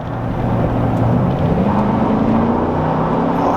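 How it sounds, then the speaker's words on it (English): A GMC Sierra 4WD pickup's 5.3 Vortec V8 with 230,000 miles revs up from idle, its loud, steady engine roar rising and falling in pitch, heard close and alone with no talking. "I'm gonna give it a little gas."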